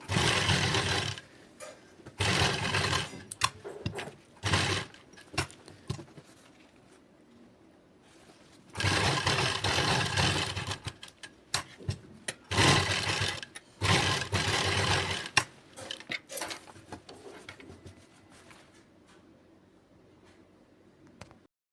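Sewing machine stitching lace onto the neckline of a matching suit, heard in irregular bursts of whirring with stops and starts, close and fairly loud, no voices.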